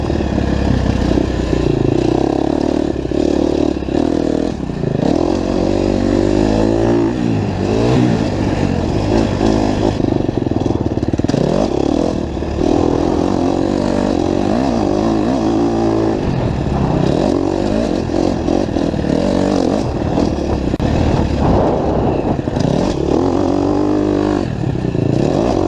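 A 2019 KTM 250SXF four-stroke dirt bike engine runs continuously through a relaxed, unhurried ride, its revs rising and falling in loud, close waves with some rattling clatter and wind.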